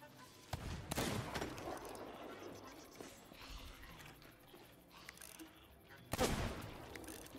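Gunfire at a distance in Sea of Thieves, with a couple of sharp shots and bursts separated by stretches of quieter game ambience, faint voices in the background.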